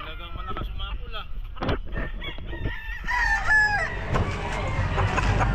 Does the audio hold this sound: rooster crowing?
yes